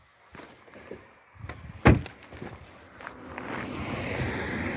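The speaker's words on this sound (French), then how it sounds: "je vais fermer la porte" A Corvette C6 Victory Edition car door swung shut, one solid thud at close range after some light shuffling, followed by rising outdoor background noise.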